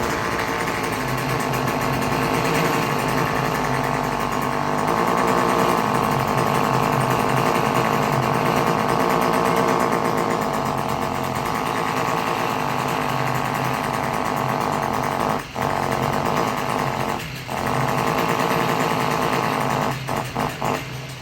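A Stihl string trimmer's small two-stroke engine running steadily after a pull start, a loud continuous high buzz that dips briefly a few times near the end.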